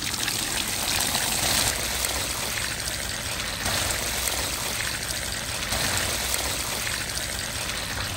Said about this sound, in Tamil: அங்க பாருங்க எவ்வளவு தண்ணி ஃபில் பண்றாங்கன்னு